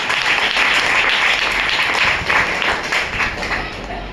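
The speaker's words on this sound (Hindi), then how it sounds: "एक बार जोरदार तालियां।" A loud, sustained round of applause from an audience at a motivational talk, dense and even throughout with no pauses.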